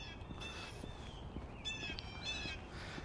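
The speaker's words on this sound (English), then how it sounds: "in this area, you're going to hear a lot of blue jays and other kinds of birds" Blue jays and other birds call outdoors along a trail, harsh repeated cries coming in several bursts over steady background noise, moderately distant.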